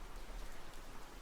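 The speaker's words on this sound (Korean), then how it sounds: "빗소리는 되게 좋은 것 같아요." Steady rain patters continuously on a surface, a soft, even hiss that holds at a constant level throughout with no voices.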